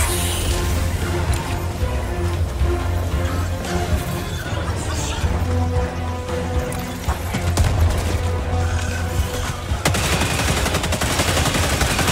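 Rapid video game gunfire crackles in dense bursts, with machine-gun volleys, booms and crashes piling up nearly without pause, loud and close throughout.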